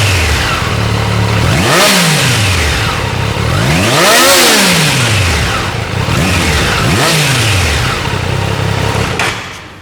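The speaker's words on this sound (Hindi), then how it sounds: "So now let's listen out the exhaust note of the Triumph 660." A 2024 Triumph Daytona 660 three-cylinder motorcycle engine with stock underbelly exhaust revving hard several times, its exhaust note rising and falling in loud sweeping bursts over a steady idle.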